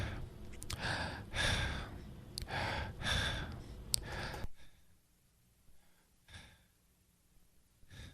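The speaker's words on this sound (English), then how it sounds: "I'm going to show you how the gate is even gating out some of my breathing noises." Close, soft breaths at a podcast microphone, a few regular inhales and exhales that abruptly drop to near silence halfway as a noise gate closes, leaving only faint, chopped breath traces.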